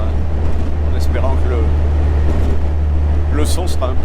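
A truck engine runs nearby with a steady, low, unbroken rumble that carries on under a voice.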